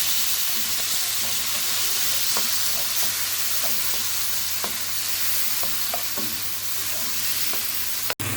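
Chopped tomatoes with red chili and turmeric sizzle in a pan of oil for a home-style pumpkin curry. Steady frying hiss runs throughout under repeated light scrapes and knocks of stirring, with a sharp clack at the end.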